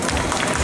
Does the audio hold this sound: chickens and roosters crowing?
no